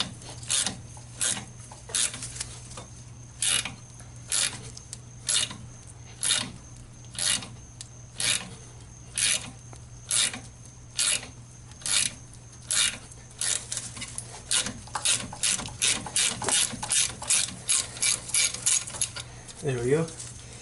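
A ratchet works rusty bolts loose during a front CV axle replacement, giving a long run of rapid rhythmic clicking bursts that speed up toward the end over a steady low hum.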